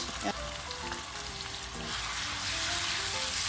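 Onions fry in a pan with a dense, steady sizzle heard close up, plus a few faint clinks from stirring, and the hiss swells slightly toward the end.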